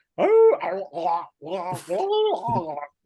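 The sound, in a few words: voice imitating a wounded dog's howl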